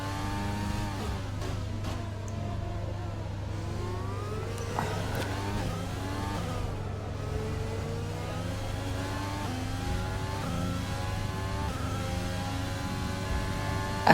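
A race car engine in the video game Master Mini Racing drones continuously, its pitch rising and falling through gear changes and revs. The steady mechanical whine is loud and sits over a constant low hum, with no voices.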